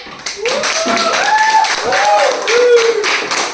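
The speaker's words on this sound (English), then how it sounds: "Let's clap for them." Grade 7 students in a classroom clap for their classmates, scattered hand claps rising and falling while voices talk over them throughout.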